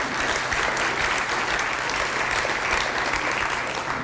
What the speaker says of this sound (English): Rich Brown will communicate that round of applause to them, to Gene